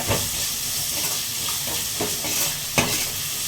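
A pan of salted ingredients sautéing for pea kurma hisses and steams loudly, with a few spoon scrapes and one sharper knock as it is stirred.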